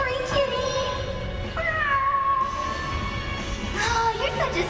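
A cat lets out short, rising and falling meows against a busy, noisy backdrop, with voices mixed in around them.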